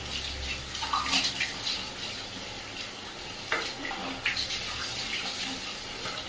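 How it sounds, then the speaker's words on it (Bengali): Water poured over a Shih Tzu during a home bath: a steady watery wash with short splashy bursts, fairly quiet and close, with no talking. "গায়ে আগে জল দেয়।"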